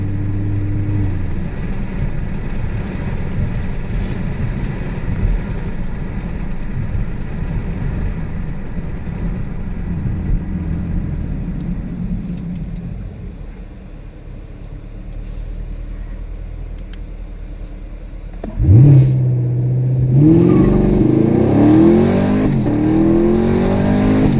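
A completely stock 2016-2019 Camaro SS automatic roars through a launch control run on warm tires, a loud sustained engine drone that dips briefly, then surges sharply into a rising high-revving acceleration near the end.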